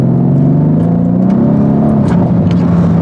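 A Mercedes C63S accelerates hard at close range, its engine roaring in a loud, steady, rising drone with no break.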